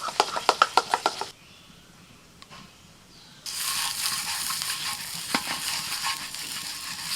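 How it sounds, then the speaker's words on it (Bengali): Oats dosa batter with cumin powder and salt is stirred with quick scraping clicks in a steady burst, followed by a quiet pause and then a broad, continuous sizzling wash of sound. "ভালো করে মিশিয়ে নিতে হবে।"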